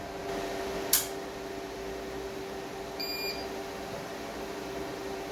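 A Tripp Lite SU16000RT4U UPS alarm sounds a single short electronic beep once while running on battery after input power loss, followed by a faint brief tone later, over a steady mechanical hum.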